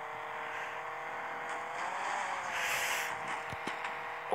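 A car drives in the Rope Hero video game with a steady engine whir that rises a little in the middle. The sound is fairly quiet, and a few sharp clicks come near the end.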